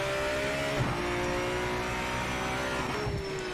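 Race car engine in Project Motor Racing holding a steady high drone with gear shifts and pitch changes, loud and continuous throughout.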